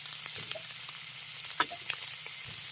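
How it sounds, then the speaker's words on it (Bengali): Chopped onion and green chilli frying with small fish in a pan, a soft steady sizzle with a few scrapes and clicks of stirring, fairly quiet and close. "এবার এর মধ্যে দিয়ে দিচ্ছি কুচি করে রাখা কাঁচা লঙ্কা আর দিচ্ছি পেঁয়াজ কুচি।"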